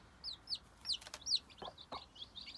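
Chickens clucking up close while eating grain, a series of short, bright clucks and squawks repeated about every half second over a quiet background.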